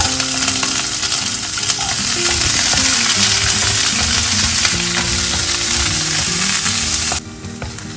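A large onion cut into squares sautés in a hot pan for chilli fried paneer, a loud, close, continuous sizzle and crackle with stirring clatter. It drops suddenly quieter near the end.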